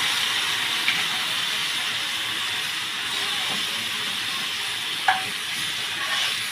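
Chili sauce sizzles in hot oil as a soft, steady hiss, fairly quiet and continuous, broken by a couple of faint clicks and taps.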